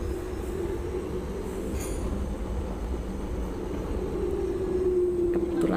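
A steady rumble of a driverless train running on rails through hills near Dagouxi, Taiwan, with a faint wheel squeal rising near the end.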